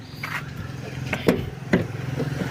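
A Mitsubishi Challenger's 4M40 diesel engine idles roughly, truck-like, with a low, uneven rumble, punctuated by a couple of louder knocks, steady and close with no talking.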